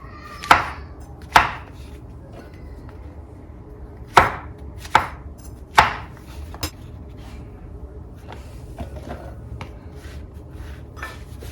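Mushrooms being chopped on a board for creamy spinach pasta: a handful of sharp, separate knife strikes in an irregular rhythm, close and clear, fading to quieter faint scraping afterward.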